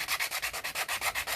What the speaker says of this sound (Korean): 먼저 얘를 사포를 가지고 면을 부드럽게 밀어줘서